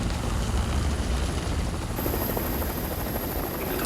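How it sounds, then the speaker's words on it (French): A firefighting helicopter fighting wildfires in Andalusia, Spain roars loudly overhead, its rotor thumping steadily and close throughout, with an engine whine rising partway through and no speech. "L'hélicoptère arrive, lâche la charge d'eau, et nous on avance sur la zone où il a balancé l'eau."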